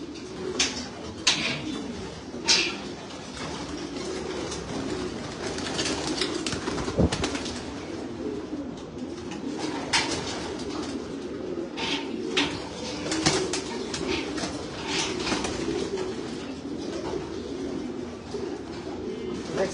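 Racing pigeons just released from the loft, cooing steadily with bursts of wing flapping and a few sharp claps, close by and fairly loud against an outdoor background.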